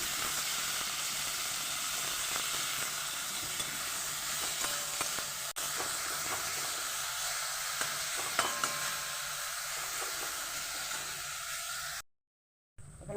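Gima greens going into a hot frying pan with potato and eggplant, giving a steady, close sizzle and hiss with faint stirring scrapes that runs for several seconds, then cuts out briefly.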